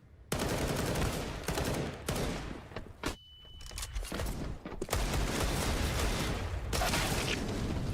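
Rapid automatic rifle fire and bursts of shots ring out in a Counter-Strike esports match between ENCE and Mousesports, loud dense fusillades with brief pauses and a short lull in the middle.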